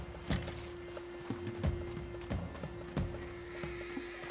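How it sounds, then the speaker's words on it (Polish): Horses in Red Dead Redemption II, with hooves clip-clopping in a steady uneven rhythm and a faint whinny among them, close and moderately loud over a constant tonal background hum. "O, jest tam konie."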